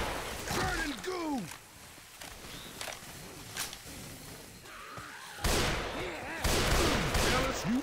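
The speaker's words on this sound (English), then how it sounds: "Alice, you are shooting me!" Gunfire in the co-op zombie shooter Left 4 Dead 2 on the Swamp Fever campaign, with bursts of sharp shots spread across the scene, loudest near the end, mixed with players shouting over it.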